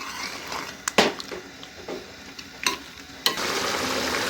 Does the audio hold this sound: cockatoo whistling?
no